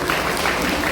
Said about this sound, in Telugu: అలాగే చాలా బహుకరిస్తున్నప్పుడు అందరూ చప్పట్లు